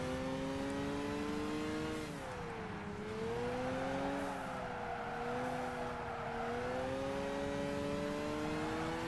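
Racing car in Gran Turismo 5 at a Japanese 80s festival event, steady engine drone rising and falling with gear changes while a faint tire squeal runs underneath, continuous and fairly quiet throughout.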